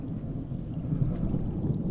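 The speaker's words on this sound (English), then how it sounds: "Wee, got a thunder coming." An outdoor rainstorm with a deep, rolling rumble of thunder, loud and continuous with a soft patter of rain over it, and no talk.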